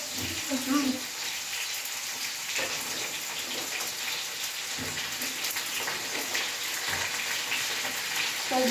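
Potato, pumpkin, beans and stalks frying in a pan, a continuous hissing sizzle with occasional soft clinks and stirring knocks, a voice briefly heard near the start.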